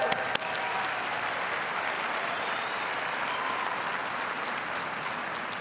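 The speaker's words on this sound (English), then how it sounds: "give our winners a big round of applause" An audience at a business keynote applauds award winners in a dense, steady roar of clapping that holds at full strength for the whole stretch, with no voices over it.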